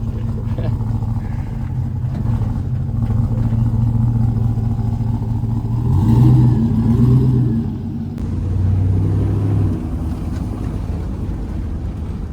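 A 1999–2006 Chevrolet Silverado truck engine runs steadily at idle with a low, continuous rumble that swells briefly, close and loud, with some wind noise.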